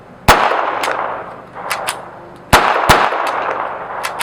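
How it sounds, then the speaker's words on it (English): Ruger Mark IV .22 Long Rifle pistol fired without a silencer: four sharp, loud unsuppressed cracks in two pairs, each followed by a ringing tail and faint metallic clinks. "First up is going to be the Ruger Mark IV 22 long rifle without the silencer on it."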